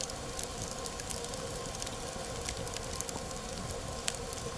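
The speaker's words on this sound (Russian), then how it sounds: "Греет костер хорошо." An outdoor campfire beside a barbecue grill crackles steadily at low level, a dense hiss broken by scattered faint pops and snaps, with no talking.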